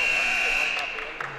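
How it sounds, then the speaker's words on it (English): Buzzer at a college basketball game between Fresno City College and College of the Sequoias: a steady, loud electronic tone holding for over a second amid arena crowd noise. "There's the buzzer"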